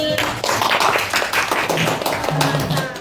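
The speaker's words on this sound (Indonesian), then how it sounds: "tepuk tangan untuk kelompok ini" A classroom group claps together for a presenting group, dense quick hand claps filling the clip, with voices mixed in.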